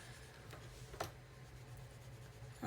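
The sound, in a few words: pencil scratching on paper while drawing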